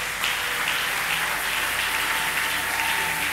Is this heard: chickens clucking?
no